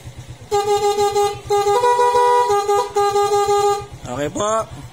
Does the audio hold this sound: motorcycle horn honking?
yes